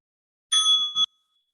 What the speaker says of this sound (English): listen deeply to the sound of the bell